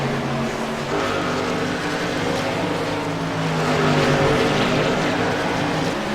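Race truck engines roaring continuously and loudly at a Truck League race at Phoenix, heard over a livestream, with a steady dense drone that swells slightly midway, with no voices.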